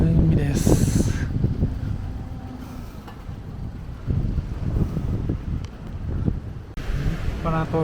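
Gusty wind buffets the microphone over a rough roar of sea at Kasumi on the Sea of Japan coast, with bursts of speech and rustling handling noise on top.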